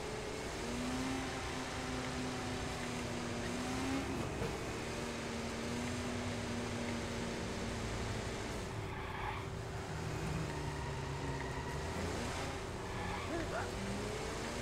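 A car driving in Watch Dogs, a steady engine drone with slight pitch shifts, faint and continuous, under someone talking.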